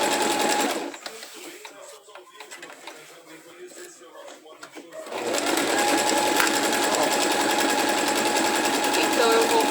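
A sewing machine stitches fabric in two bursts, a brief run, then a pause, then a longer steady whirring run, with a person talking throughout.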